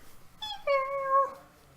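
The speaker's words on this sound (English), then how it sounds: "She goes meow." A cat gives a single short meow, rising and then holding a clear tone before trailing off, close and fairly quiet against a near-silent background.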